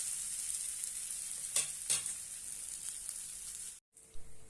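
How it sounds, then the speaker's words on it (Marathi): A palak besan chila roasting in a pan until crisp on both sides gives a bright, steady hiss with two short scraping flips, close by and with no voices, then a sudden brief drop to silence. "मस्तपैकी दोन्ही बाजूने आपण खरपूस असं भाजून घेऊया"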